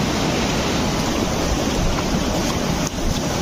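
Rainwater surges loudly through an overflowing drain after heavy rain, where a second drain channel joins in; a steady, dense roar of rushing water fills the whole stretch without a break.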